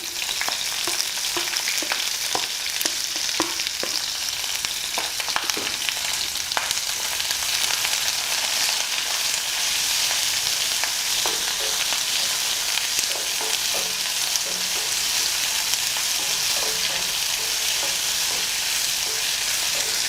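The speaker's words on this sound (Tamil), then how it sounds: "காஞ்ச மிளகாய், பச்சை மிளகாய், கட் பண்ணி வச்சுருக்கக்கூடிய வெங்காயம் எல்லாமே போட்டு நல்லா வதக்குங்க." Dried red chillies, green chillies and chopped onions sizzle steadily in hot oil for a Tamil tomato coconut-milk curry, with occasional stirring clicks of a spoon against the pan, continuous and fairly close, with no talking.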